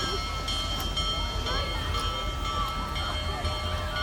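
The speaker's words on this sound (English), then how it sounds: "That is a train steam engine." Union Pacific Big Boy steam locomotive running in Big Sandy, Texas, a continuous rumbling mechanical roar with faint chuffing and squeals, heard from some distance with a crowd murmuring nearby.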